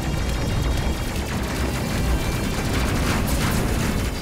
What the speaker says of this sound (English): Love those explosions.